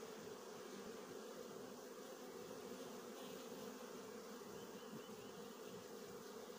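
A swarm of honey bees moving into an empty hive box outdoors, a dense continuous buzzing drone holding steady throughout, close and even, with no voices.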